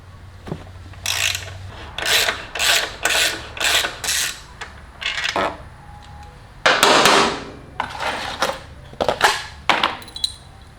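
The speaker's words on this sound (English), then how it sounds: "I'm going to back this out, put in the new one, torque it down, and then do the other side" A ratchet wrench loosens and torques a 14 mm bolt on a 2019 Kawasaki Ninja ZX6R 636 while frame sliders are fitted, giving close, loud bursts of rapid clicking strokes, several in a row with short pauses, then a longer heavier run.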